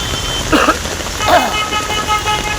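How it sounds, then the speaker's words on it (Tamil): Heavy rain falls with floodwater across a road in Bangalore during a storm, giving a steady broadband hiss, while passing vehicles add two brief swells and horn-like tones. "அவ்வளோ மழை போயிட்டுருக்கு"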